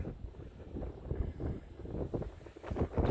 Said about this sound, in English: Wind's only blowing about 40-45 miles an hour.